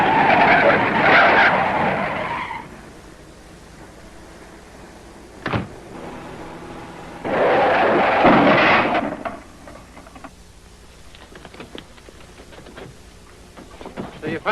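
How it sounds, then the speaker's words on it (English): Car tires skid loudly under hard braking, a sharp screeching burst at the start and another a few seconds later, with a brief thump between and engine rumble afterward. "Now, slam on your brakes."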